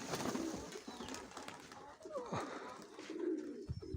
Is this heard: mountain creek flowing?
no